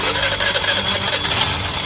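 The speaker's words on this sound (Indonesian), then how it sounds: "Sekarang kita coba starter, teman-teman lihat di bagian gear ini ya, pokoknya nanti langsung hidup mesinnya ya." A Honda Beat, Vario or Spacy scooter with a repaired starter is cranked by its electric starter, giving a close, busy whirring and mechanical chatter that runs continuously, with a voice briefly audible over it.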